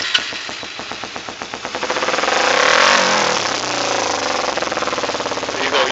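A 2008 Kawasaki Ninja 250R with rev problems idles nearby in a rapid pulsing chug, then its revs swell to a louder, smoother hum around the middle before settling back to a throbbing idle.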